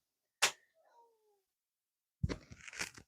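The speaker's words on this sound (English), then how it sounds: "there's a cat in the background." A domestic cat meows once in the background, a short gliding cry that is fairly faint, then some louder clattering and rustling noises follow after a quiet gap.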